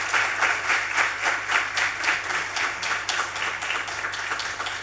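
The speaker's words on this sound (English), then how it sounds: "could I please request a big round of applause for our panelists" A conference audience applauds its panelists with a sustained round of clapping, fairly loud and dense, holding steady throughout with no voices over it.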